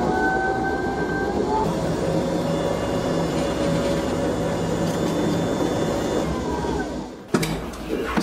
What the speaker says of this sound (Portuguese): Agora eu vou levar para a batedeira e nós vamos bater.